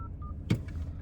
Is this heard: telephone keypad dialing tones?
yes